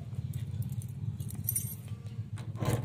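Metal keys jangle and rattle while a house door is unlocked, close and continuous for a few seconds over a steady low rumble, with a sharper clink near the end.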